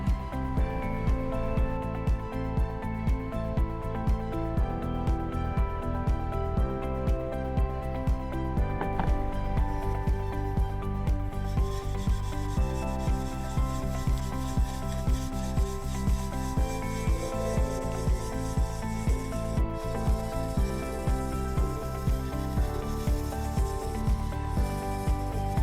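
Weathered, stained ceramic tile is scrubbed with Dr. Clean SM3001 cream polisher, a steady close rubbing and rasping that runs continuously without pause and without any talk.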